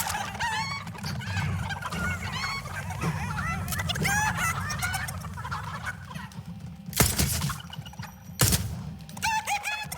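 Chickens cluck and squawk in the Fortnite video game, busy overlapping calls above a low background rumble, with a couple of sharp loud bursts near the end.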